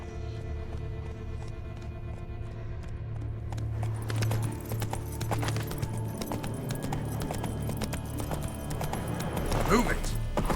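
Roach the horse trots through The Witcher 3: Wild Hunt, hooves clip-clopping in a steady rhythm with rain falling around, while a voice speaks briefly over the hoofbeats.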